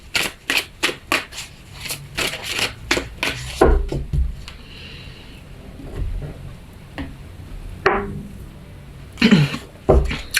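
Haiku oracle cards are shuffled by hand in quick rhythmic riffles, close and crisp, followed by a few softer shuffles and card taps with brief pauses between.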